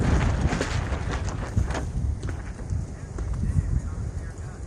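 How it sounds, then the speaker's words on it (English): Strong outdoor wind gusting up to about 60 mph at a cold campsite where big branches are coming down, a loud, continuous broadband roar with surging swells throughout. "the winds are gusting up to like"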